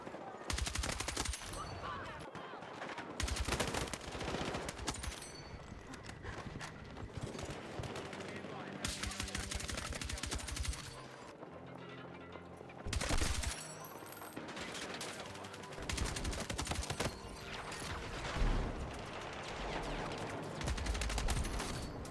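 Rapid automatic gunfire from the video game Battlefield 6 rattles in long dense bursts with brief pauses, loud and close, while someone talks over parts of the shooting.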